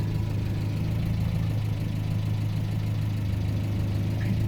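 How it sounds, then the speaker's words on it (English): A 1980 Land Rover Series 3 109 engine idles steadily close by, a smooth low rumble with an even hum and no revving, running alone for several seconds. "It ticks over so beautifully, this little engine"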